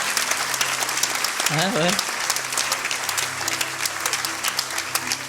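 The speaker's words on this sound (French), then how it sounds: "Amen, on peut s'applaudir." A church congregation applauds at a baptism service, steady broadband clapping filling the whole clip while someone speaks briefly over it.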